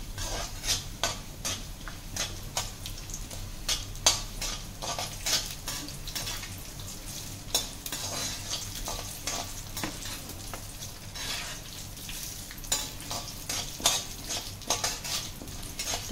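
Urad dal fries in hot oil for a tempering while making lemon idiyappam, giving a steady crackling sizzle broken by frequent clinks and scrapes of a spoon stirring in the pan.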